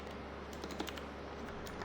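Rapid typing on a computer keyboard, steady light clicks close by under a constant background hum, no talk.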